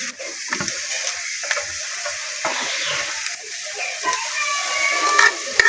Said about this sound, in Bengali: গ্রেট করে রাখা ফুলকপিটা দিয়ে দিচ্ছি